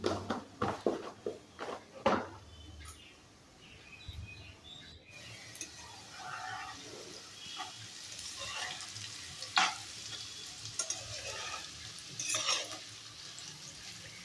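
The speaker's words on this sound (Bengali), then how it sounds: "এই যে আলু ভাজা হচ্ছে" Potatoes sizzle in a pan with a steady hiss, punctuated by sharp scraping and stirring clatters, close up and without talk.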